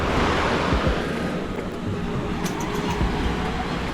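Surf at Silver Beach in Thailand, a steady broadband wash of waves with wind noise on the microphone, continuous and fairly loud throughout with no talking.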